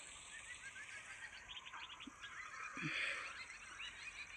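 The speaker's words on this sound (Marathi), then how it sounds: "पाखरांचा किलबिलाट." Birds chirp and twitter on a farm at dusk, a steady chorus of small, fairly distant calls throughout, with a few fuller calls rising near the end.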